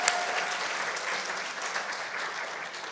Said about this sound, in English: So I'm gonna clap for you guys.